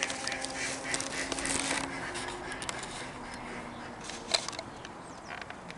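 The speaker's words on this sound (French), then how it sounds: "vous entendez les motos et vous entendez les canards en même temps" Ducks quacking in the countryside near a motorway, with motorcycles passing: scattered quacks over a steady wash of distant traffic noise, fairly faint, with a brief louder sound near the end.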